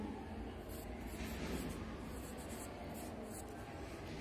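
Chalk or marker writing numbers on a classroom board during a lesson, a steady continuous scratchy rubbing, faint and close.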